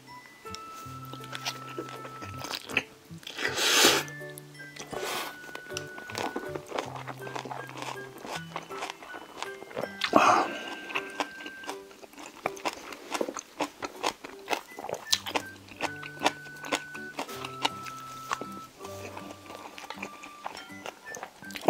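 Steamed monkfish with crunchy bean sprouts being eaten up close: soft chewing, crunching and clinking of utensils over about twenty seconds, with background music playing throughout.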